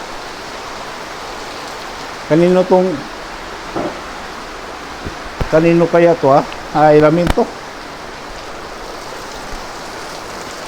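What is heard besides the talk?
heavy rain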